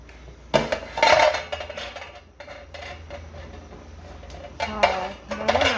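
Clinks and clatters of a metal cooking pot and its lid being lifted and handled, several short knocks scattered over a low steady background hum, fairly close.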